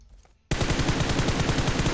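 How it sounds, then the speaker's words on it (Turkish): Rapid automatic gunfire from the mobile battle game PUBG Mobile, breaking out abruptly after a quiet moment into a loud, steady burst of evenly spaced shots that continues to the end. "Bir yerlerden sıkıyor bu ama nereden sıkıyor?"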